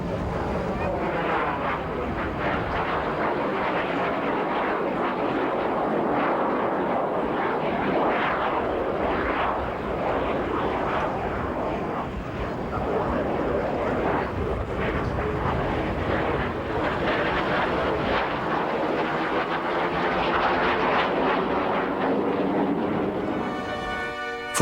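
An RAF Jet Provost trainer jet produces a steady, broad roar that holds at an even loudness for the whole stretch, with a faint rushing texture and no clear breaks.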